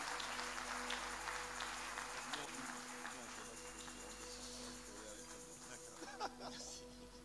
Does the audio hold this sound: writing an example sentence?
no